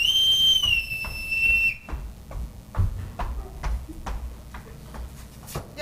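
A sharp, shrill whistle blown in a household for a few seconds, followed by a series of steady footstep-like taps and shuffles.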